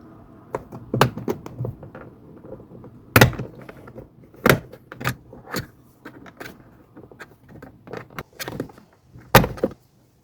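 Plastic hooks on the rear door card of a Mercedes E-Class W212 are pried loose, giving a series of sharp snaps and clunks at irregular intervals, close and fairly loud against a quiet background.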